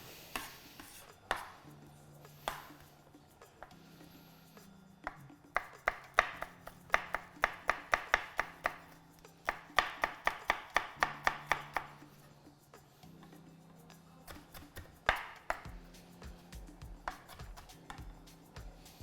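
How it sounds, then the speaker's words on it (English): A knife chops chilli on a board in rapid bursts of crisp, close taps, with pauses between runs and light kitchen clatter around it. "Finally chop the chilli as well."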